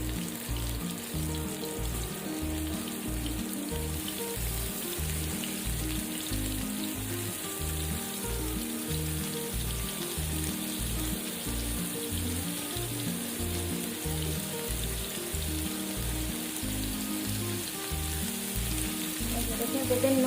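Chicken seekh kababs made with white butter sizzle and fry steadily on a plain pan, a continuous close crackling hiss with no talking.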